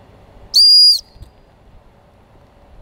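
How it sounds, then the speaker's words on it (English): A Tesla Cyberwhistle blown once gives a loud, piercing, steady high whistle lasting about half a second, close up, with a quiet room before and after. "When you blow a cyber whistle, you summon a Tesla."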